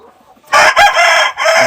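Guinea fowl let out a loud, harsh burst of calls lasting about a second, close by, after a moment of near quiet.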